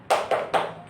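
Three quick, sharp hand claps in a steady rhythm, close and distinct, from a classroom 'tepuk semangat' clapping ice-breaker in a group counseling session.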